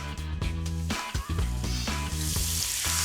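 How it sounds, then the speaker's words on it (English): Mushrooms sizzle and fry in olive oil in a hot frying pan, a steady crackling hiss that swells louder toward the end, with music underneath. "Then add olive oil to a hot frying pan."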